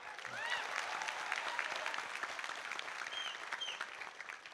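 A live show audience claps, a short burst of steady applause that holds at a moderate level and tapers slightly near the end, with a faint voice audible underneath.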